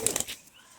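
A pair of Matras pigeons in a loft, a brief burst of wing flaps, three or four quick claps close by, then fading to quiet.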